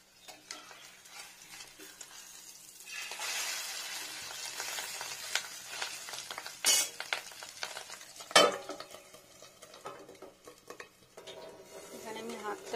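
Fish roe frying in a pan, with steady sizzling and sharp clatters of a utensil stirring against the pan, plus occasional scraping, close and fairly quiet.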